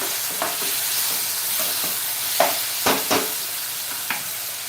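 Masala and vegetables frying in a pan for masale bhaat, with a steady sizzle and several sharp crackling bursts where water hits the hot oil, close and alone with no talk.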